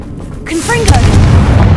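Confringo spell cast in Hogwarts Legacy, a loud booming blast that swells and rumbles on for over a second, with a voice calling out just before the hit.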